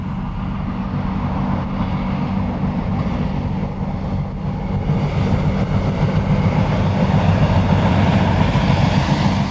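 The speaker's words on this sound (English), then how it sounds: "trains glide effortlessly up the once notorious 1 in 37" A train climbs the Lickey Incline, the steep 1 in 37 gradient on the Birmingham–Worcester line, giving a close, steady rolling rumble that grows slightly louder and heavier over several seconds, with no voices.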